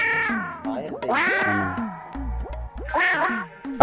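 Young goat kids at a goat sale bleat in repeated high, wavering cries, several overlapping closely, with people talking around them.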